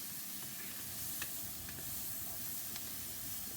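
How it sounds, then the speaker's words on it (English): Onions frying on high heat in a pan for lamb keema curry, a continuous faint sizzling hiss with occasional small pops and crackles, heard at a distance with no talking. "we're going to let it cook on high heat for a minute"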